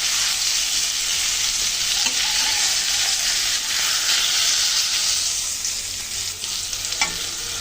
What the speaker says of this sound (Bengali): লালচে করে ভেজে নেবো পটলগুলো